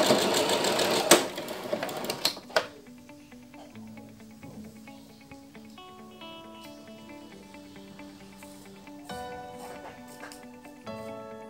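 A domestic sewing machine stitches a fabric strip for a DIY ruched top in quick bursts of rapid mechanical whirring, with pauses and small clicks between runs, close and moderately loud.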